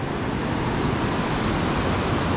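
A broad, steady rush of flowing water fills the space, loud and constant like a fast river nearby, with no voices.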